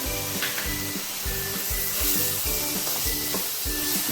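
Onions fry for masala pasta and are stirred, giving a continuous close sizzle over a repeating rhythmic tonal background.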